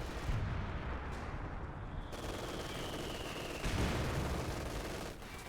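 An MG42 machine gun bunker fires in a video game: continuous, dense rattling bursts over booming battlefield rumble, loud and close, with no voices.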